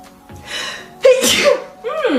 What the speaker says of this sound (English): All of these swimsuits are really dusty. It's like making me sneeze.